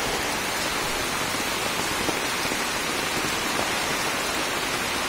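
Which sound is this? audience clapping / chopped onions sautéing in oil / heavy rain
heavy rain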